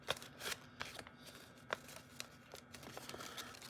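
Paper crinkling and rustling while an origami Blackjack model gets an inside reverse fold, quiet, close crisp taps and crackles in an irregular stream with no talking.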